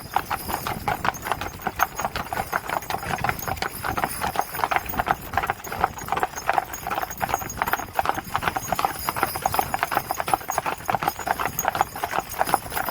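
Rapid, continuous clip-clop of a four-horse hitch's hooves on a hard surface, close and brisk, with an occasional whinny among the rhythm.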